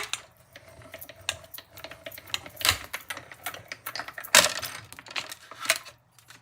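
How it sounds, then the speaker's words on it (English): A Stampin' Cut and Emboss machine cranks paper through with quick, uneven clicking and ratcheting taps, a few sharper snaps standing out close by in a quiet room. "I love my little Stampin' Cut and Emboss machine"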